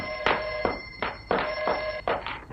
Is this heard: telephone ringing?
yes